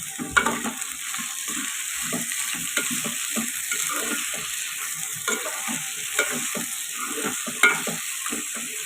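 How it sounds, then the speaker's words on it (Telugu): Salted potato pieces fry in a pan while being stirred, giving a steady close sizzle with repeated scraping and clattering of the spoon and no voices. "తొందరగా ఫ్రై అవుతాయి మగ్గుతుంది బాగా కలుపుతున్నాం"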